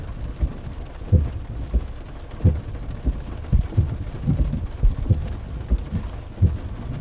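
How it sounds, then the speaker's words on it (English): Steady rain hisses outdoors, broken by irregular low thumps and rumbles close by. "Raining out here."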